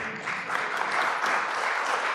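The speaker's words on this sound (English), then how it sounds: "give yourself a round of applause" Sustained applause from an audience at a cultural council grant reception, a dense steady patter of many hands clapping at moderate volume throughout.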